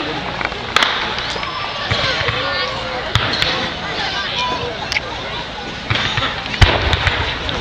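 Victoria Day fireworks bursting outdoors, with several sharp bangs and pops at irregular intervals over a steady crackling wash and a murmuring crowd.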